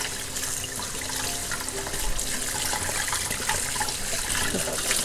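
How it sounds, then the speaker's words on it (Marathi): Water runs continuously from a tap with a steady splashing rush while sea crabs are washed clean of sand in a kitchen. "अशा पद्धतीने आपण ह्या उरल्या त्या चांगल्या स्वच्छ धुवून घेऊया"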